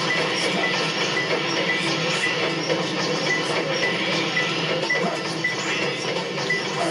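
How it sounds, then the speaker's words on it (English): A train running through a level in the video game Sonic Adventure 2, heard as a continuous rumbling clatter of rail wheels with faint metallic squeals, steady and fairly loud with no talk. "Sorry if there's a train going around in the level."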